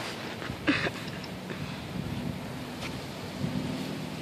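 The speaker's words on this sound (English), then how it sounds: "the waves are getting really, really big" Large ocean waves break in stormy, rainy weather, a deep rumbling roar with wind buffeting the microphone and a few sharper surges.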